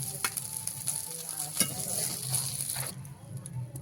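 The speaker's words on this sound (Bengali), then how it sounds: "এই যে মাছ ভাজাটা হয়ে গেছে" Fried fish sizzles steadily in hot oil in a kitchen, a continuous hiss with a few scrapes and clinks, and the sizzle drops away near the end.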